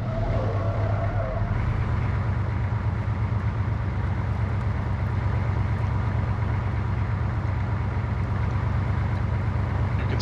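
A vehicle drives in the video game Arma 3 with a loud, continuous engine drone and deep rumble, holding steady throughout with no breaks.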